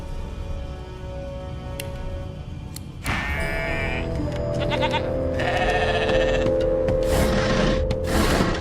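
Sheep in the video game Divinity: Original Sin 2 bleat in loud, wavering cries that start partway through and repeat several times over a steady game music bed, close and clear, no voices.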